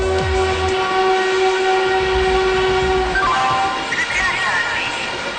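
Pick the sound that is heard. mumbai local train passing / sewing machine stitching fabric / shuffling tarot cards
mumbai local train passing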